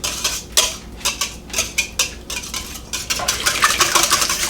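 Eggs whisked in a bowl with a wire whisk, ahead of adding milk for a tater tot breakfast casserole; quick, close metallic clinks and scrapes against the bowl in uneven bursts, growing steadier and busier toward the end, no talk.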